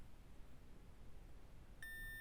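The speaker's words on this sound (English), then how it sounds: "One blue beep says we're in add key mode" A Land Rover Freelander key fob programmer gives a single clean electronic beep near the end, short and tonal over a quiet background hiss.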